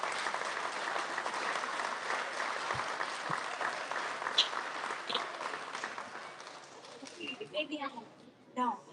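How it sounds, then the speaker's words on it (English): Audience applause at an elementary school student recognition event, steady clapping for several seconds that thins out into scattered claps and voices. "All right, big round of applause for our special areas."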